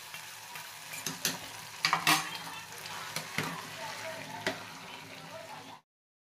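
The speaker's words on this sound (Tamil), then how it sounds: "இதோட நல்லா கலரி விடுங்க" Kovil pongal being stirred in a pot after the tempering is added, heard as a steady close scraping and mixing with soft sizzling and intermittent louder strokes.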